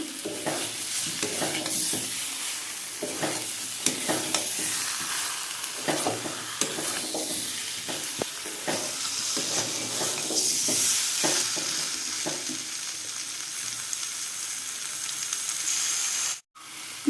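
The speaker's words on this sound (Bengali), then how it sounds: "এবার ভেজে রাখা পটল আলু দিয়ে দিচ্ছি এবার মশলার সাথে এগুলোকে ভালো করে মিশিয়ে নেবো" Fried pointed gourd and potato being stirred into frying spices for potol chingri, a constant close sizzle with frequent scraping strokes of the spoon, ending with a brief break.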